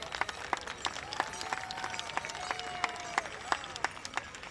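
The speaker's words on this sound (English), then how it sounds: "let's give Mateas a big round of applause" A crowd at a world hoop dance championship applauds, scattered claps and cheers rising and falling, with a faint whistle-like tone drifting through the middle, moderately distant.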